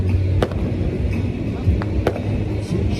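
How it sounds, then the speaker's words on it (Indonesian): Firecrackers pop in sharp, scattered bursts against a steady street rumble after arriving in Bali, each crack short and moderately loud, with a few spaced a second or so apart. "ada yang main petasan."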